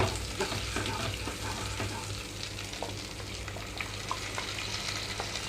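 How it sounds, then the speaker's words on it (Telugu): Ground paste in a pan, with ginger and garlic frying in it, for paneer butter masala, making a continuous soft sizzle with stirring scrapes and small crackles, close and steady, with no talking. "డైరెక్ట్గా ఆ పేస్ట్ని ఇందులోకి వేసి వేయించుకోవాలి"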